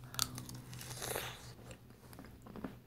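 Homemade chocolate-covered strawberries bitten and chewed up close, a few crisp crunchy bites with soft wet chewing between them, with no talking.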